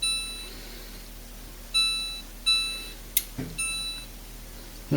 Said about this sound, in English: And let's set our timer for about 65 minutes.